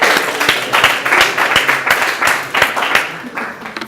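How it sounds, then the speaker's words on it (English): Audience gives a round of applause at a private tutoring awards ceremony, loud close rhythmic clapping from a small crowd with voices mixed in. "Give her a round of applause."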